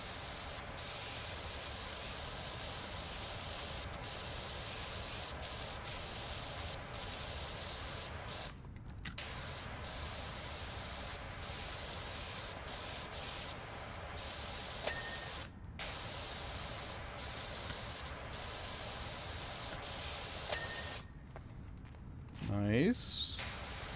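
A pressure washer fitted with a yellow nozzle sprays in a video game, a long continuous hiss of water jet broken by a few short pauses, while people talk now and then over it.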